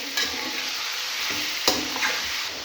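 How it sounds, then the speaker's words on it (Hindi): Chicken fries in hot oil for an achari chicken dish, a steady close sizzle with a few scraping stirs of a spoon in the pan. "यहाँ पे सबसे पहले इसके अंदर हम चिकन शामिल करेंगे। इसमें चिकन शामिल करने के बाद इसको अच्छे से मिला लेंगे, इसको मिक्स कर लेंगे।"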